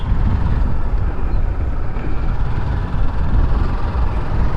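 A Suzuki Gixxer motorcycle pulls hard under acceleration on the road, its engine a loud, dense low roar mixed with rushing wind buffeting the microphone, steady throughout.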